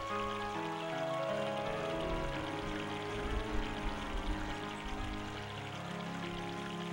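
Water refills a bottle at a fountain in the video game Clock Tower 3, a steady close pour with a bubbling, rising trickle lasting several seconds and no talking.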